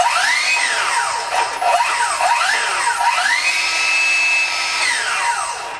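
A Ryobi One+ brushless cordless saw runs steadily, its motor whine sweeping up and down in pitch as the trigger is varied, loud and close with no talk over it.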